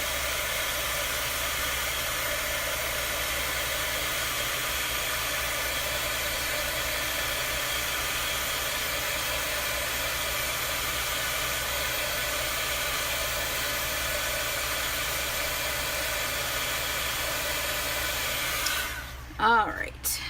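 Hair dryer blowing on a chalk transfer, a steady, fairly loud whooshing hiss that runs unbroken for most of the time before cutting off with a brief clatter at the end.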